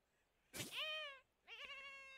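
Two sheep bleats from the video game Lumberhill: a longer wavering bleat, a short pause, then a second shorter bleat, close and clear against a quiet background.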